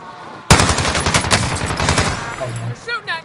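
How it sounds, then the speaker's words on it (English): Rapid automatic gunfire erupts in a video game firefight aimed at the player, a loud dense burst of shots lasting a couple of seconds before dying away into smaller sounds. "They're shooting at me!"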